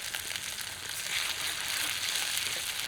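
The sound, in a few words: spice paste with onion frying in a wok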